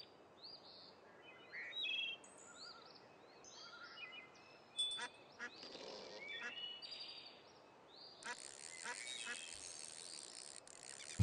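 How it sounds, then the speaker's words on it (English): Duck quacking in the fishing video game My Fishing World: brief, scattered bird-like calls over a bed of chirping crickets and outdoor ambience, fairly faint and at mid distance. "Is that a duck?"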